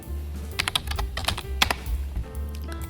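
Rapid typing on a computer keyboard while renaming a sequence in Premiere Pro CC 2020: close, crisp key clicks in uneven bursts with brief pauses, over a low steady hum and no voices.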